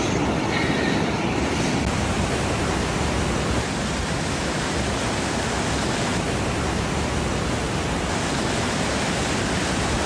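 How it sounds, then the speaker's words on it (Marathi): The Someshwar waterfall on the Godavari river near Nashik, swollen after heavy rain, roars as a loud, unbroken wash of rushing water that holds steady throughout with no voices. "आपण बघतोय धोधो पाणी या धबधब्यामधून कोसळत आहे"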